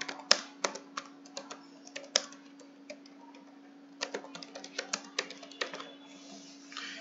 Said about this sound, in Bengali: সেটা চালানোর জন্য একটা কমান্ড লিখবো